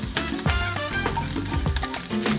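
Squid (chipirons) and onions fry in a pan with a steady sizzle, broken by the scrape and clatter of stirring utensils against the pan.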